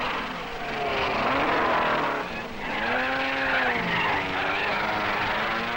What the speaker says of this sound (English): Hill and Ginther in Ferraris running nose to tail chase after Moss.